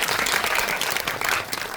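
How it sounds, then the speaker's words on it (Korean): Audience at a Korean film talk event for the Netflix series Aema breaks into dense, steady applause for the director, a continuous wash of many hands clapping close and loud with no talk over it. "감독님께 박수 한번"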